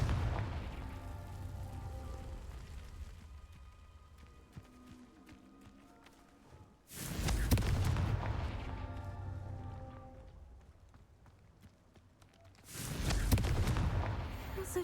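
Two heavy Confringo spell blasts from Hogwarts Legacy land several seconds apart, each a loud booming burst that decays into rumbling debris, over a steady bed of game ambience.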